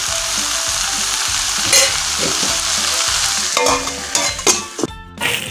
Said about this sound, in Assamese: পাঁচ মিনিট সময়ৰ কাৰণে ভাজিবলৈ দিম।